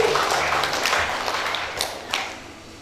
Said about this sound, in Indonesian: Jemaat bolehlah tepuk tangan ya.